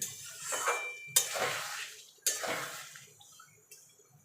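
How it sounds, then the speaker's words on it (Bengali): Spices being stir-fried with potatoes in a pan for a Bengali bhetki fish-bone chorchori, heard as a few loud scraping strokes and clinks of a spatula against the pan over a soft sizzle, with no talk. "এবার মিনিট খানেক আমি আলুর সঙ্গে মশলাটা কষিয়ে নেব"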